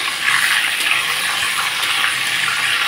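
Chital fish pieces frying in hot mustard oil give off a steady, close, broadband sizzle that holds evenly throughout with no voices.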